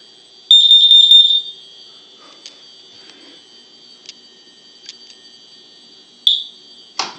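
A combination smoke and carbon monoxide alarm under test, sending out a shrill piercing beep burst, then a series of short chirps and another loud tone, close by with quiet gaps between.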